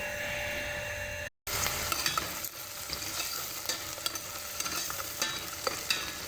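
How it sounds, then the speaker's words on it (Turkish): Tomatoes, tomato paste, black pepper, cumin and salt stirred into frying onions for a chickpea stew, close sizzling with repeated spoon scrapes after a brief cut to silence. "Buraya içine domatesini, salçasını, karabiberini, kimyonunu, tuzunu atıp karıştıracağız güzelce."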